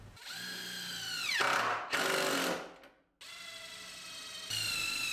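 A power driver drives screws into the corners of a CNC machine frame, producing long whining runs that rise and fall in pitch with a short pause between, loud and close with no talking.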